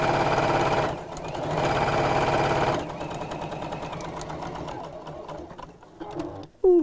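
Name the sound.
sewing machine stitching all the way around fabric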